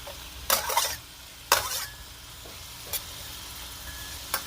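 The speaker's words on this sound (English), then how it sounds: "They are going to start to sizzle pretty fast" Onions and garlic sizzling in a pan, a low steady sizzle under a few bursts of louder hissing and stirring scrapes, close up, with no one talking.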